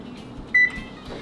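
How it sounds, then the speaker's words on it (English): A home kitchen oven is switched on before baking cinnamon rolls. It gives a single short electronic beep, clear against a quiet background. "First, start by turning the oven on."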